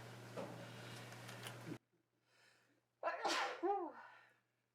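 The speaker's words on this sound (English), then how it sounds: "I'm sneezing" A single person sneezes once, close and fairly loud, after a short quiet gap; a brief breathy aftersound follows, with no speech.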